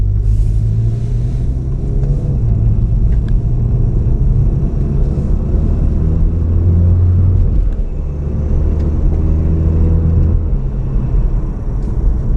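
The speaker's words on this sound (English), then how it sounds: "you guys can hear how the car sounds with a catalyst downpipe and a resonator delete" A VW Golf R with a catalyst downpipe, resonator delete and exhaust valves held permanently open rumbles loudly and steadily from inside the cabin, a deep sustained drone with slight shifts in engine load.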